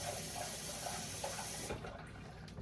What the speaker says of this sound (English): Add some more cold water